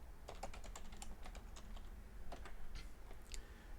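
Rapid clicking keystrokes on a computer keyboard as a web search is typed, quiet and close, in quick uneven bursts with short pauses between them.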